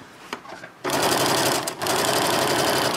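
A sewing machine stitches fabric along a creased edge for a diaper-changing bag. After a brief quiet start, it breaks into a loud, close, steady whir with a momentary dip partway through.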